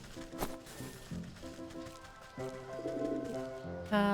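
A pigeon in the video game Wytchwood coos in low, repeated throaty phrases over soft ambient game music, ending with a brighter tonal chime.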